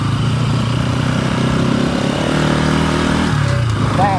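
Bajaj Pulsar NS200 motorcycle engine running steadily while riding, a continuous close drone with shifting pitch and rushing wind throughout.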